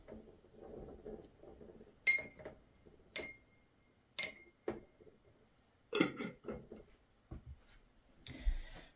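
An oil painter's brush is rinsed in a glass jar, producing quiet scattered taps and clinks against the glass with some soft swishing, close and faint.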